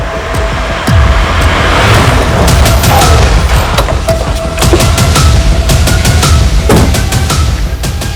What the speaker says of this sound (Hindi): रात को 2 बजे फिर गोली की आवाज आई है